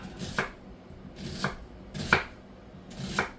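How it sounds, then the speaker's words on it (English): A knife chops an onion on a cutting board while pot roast is being prepared: four distinct, evenly spaced cuts about a second apart, close and clear, with no voices. "So let me continue cutting my onion."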